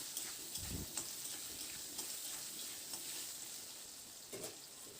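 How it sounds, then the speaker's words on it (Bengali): Cubed potatoes with a little salt and turmeric frying in a pan, a faint, even sizzle broken by a few soft knocks and stirring sounds, with no voices. "আলুটাকে মিনিট 2-3 মতো প্রথমে আলুটাকে একটু ভেজে নিতে হবে"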